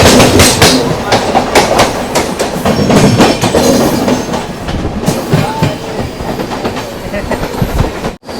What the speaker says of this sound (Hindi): अपनी ट्रेन जो है ना वो एक पैसेंजर ट्रेन को पीछे छोड़ रही है।